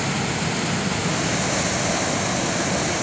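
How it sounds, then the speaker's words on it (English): Small waterfalls on the River Tees rush in a steady, dense broadband roar, close and constant with no pauses or other sounds. "Some small waterfalls just here"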